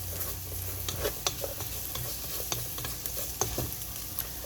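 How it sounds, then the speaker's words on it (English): Raisins toasting in oil in a frying pan for a Middle Eastern meal, a close, steady sizzle broken by occasional stirring scrapes and pops, with no voices. "I'm shaking some raisins. Probably about a quarter cup should do. Quarter cup to a half, that'll be fine. I'm gonna toast this."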